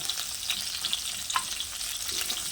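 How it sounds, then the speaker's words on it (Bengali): Shing fish fries crisply in hot oil, giving a steady, close sizzling hiss with small crackles and pops throughout, no voices. "কড়া করে ভেজে নিলাম"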